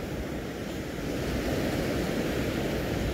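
Steady roar of strong surf washing in over shallow water at a rocky fishing spot in Palaca, Miagao, Iloilo, broad and continuous with no distinct breaks, fairly close and loud throughout.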